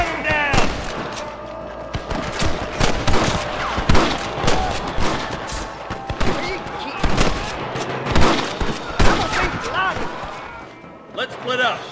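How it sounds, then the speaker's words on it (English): Rapid gunfire from a Red Dead Redemption shootout, many sharp shots cracking in uneven bursts over a dense game soundscape, with shouted voices talking throughout. "Gun them down!"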